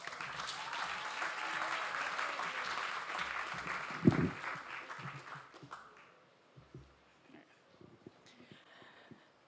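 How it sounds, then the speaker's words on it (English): Audience applause for a speaker at a talk event, a loud sustained burst of clapping and a few cheers that fades out over several seconds, leaving scattered quiet sounds. "Please give a big warm applause to Yassmin."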